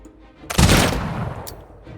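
Gunners fire in the strategy game Humankind, a single loud close burst of gunfire with a sharp attack and a rumbling tail, followed by a faint short crack.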